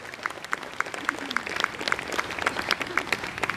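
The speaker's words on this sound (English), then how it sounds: "Give yourselves a round of applause for making that possible." Concert audience at a hula and Hawaiian music show gives a round of applause, scattered hand claps that are distinct and rhythmic at first and then thicken, fairly close, with light crowd murmur underneath.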